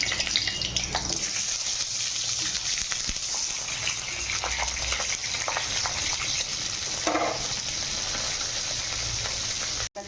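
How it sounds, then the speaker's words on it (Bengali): Pointed gourd (potol) pieces sizzle and fry steadily in hot oil in a wok, a dense continuous crackle with occasional stirring clinks, close and loud with no talking. "এই তেলে আমি পটলটা ভেজে নেব আর মশলাটা ভেজে নেব"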